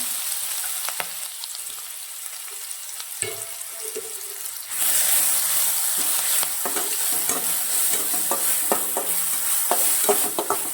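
Green chili, cumin seeds and garlic cloves frying in hot oil for a greens stir-fry, with a soft sizzle that jumps louder partway through and continues with scattered stirring clicks and scrapes.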